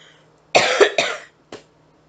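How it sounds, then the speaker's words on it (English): A man coughs in a harsh burst of two or three close coughs, then one shorter cough a moment later, near and fairly loud over a quiet room. "man, if I could just stop coughing."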